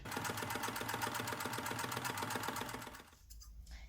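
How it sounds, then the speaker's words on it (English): A sewing machine stitches a reusable fabric snack bag, its needle running in a fast, even, close mechanical chatter for about three seconds before stopping abruptly into quiet handling noise. "so let's get stitching."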